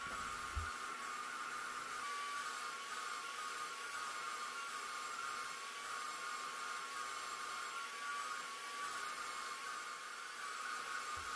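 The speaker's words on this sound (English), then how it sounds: "I sprayed all the elements for the lower parts of the cabinets first" A paint sprayer applies primer and paint to cabinet parts for a living room storage unit, giving a steady, continuous airy hiss with a mechanical hum underneath that holds an even level throughout, with no talking.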